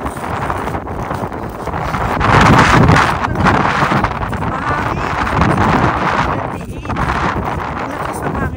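Strong, cold wind buffets an outdoor microphone in Canada, a rough, rumbling roar that swells and eases in gusts and stays loud the whole way through.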